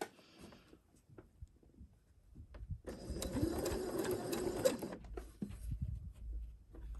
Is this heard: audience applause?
no